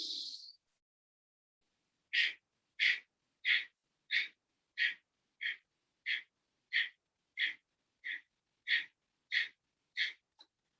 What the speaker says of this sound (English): It starts with a big inhale and sharp little exhales pulling in.